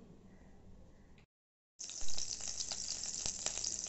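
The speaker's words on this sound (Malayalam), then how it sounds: "അണ്ടിപ്പരിപ്പ്, മുന്തിരി എല്ലാം കൂടെ നമ്മൾ നെയ്യ് ഒഴിച്ച് വറുക്കാം." Cashews frying in ghee in a pan for sago payasam, a brief soft sizzle, then a gap of silence, then a louder steady crackling sizzle with faint stirring scrapes, close and without talk.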